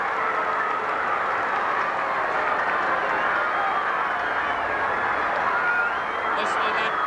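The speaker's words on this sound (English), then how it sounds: "Listen to that crowd go mad" A football crowd at a 1985 VFL match roaring after Ian Graham's kick gives a one-point margin: a sustained, dense wash of cheering, distant and steady throughout, with a brief higher whistle near the end.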